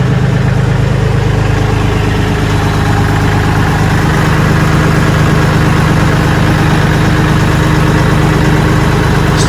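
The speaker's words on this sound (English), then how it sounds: "So I'm going to go ahead and just roll the tractor forward." A tractor engine idles steadily while the machine rolls slowly forward, a constant close low rumble with an even vibrating throb and no talking.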